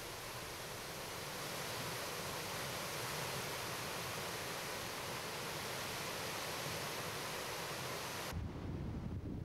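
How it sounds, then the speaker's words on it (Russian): Triple geyser in Kamchatka's Valley of Geysers erupting boiling water from three vents, a steady loud roaring rush that holds constant throughout, with a sudden shift near the end. "А вот заработал и тройной."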